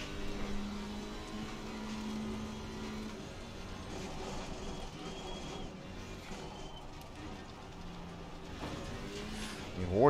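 An Alpine GT4 race car on the back straight at Oulton Park, heard from inside as a steady, fairly quiet engine drone that builds toward the end.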